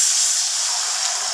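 Mustard paste hits hot oil in a pan of fried onions for an egg curry, giving a loud, steady, close sizzling hiss with no voices.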